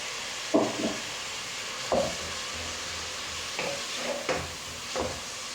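Mushrooms added to onions sizzle in a frying pan, a soft steady hiss broken by a few scraping stirs of a spoon, close and fairly quiet, with no talking.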